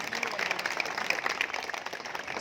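A political rally crowd in Indore claps for a local councillor, a brief, fairly faint spatter of applause from a gathered audience that sounds somewhat distant.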